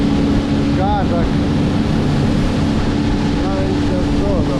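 Motorboats running on a river near Concordia, Argentina, with a steady engine drone and wind noise throughout, while birds chirp briefly over the top.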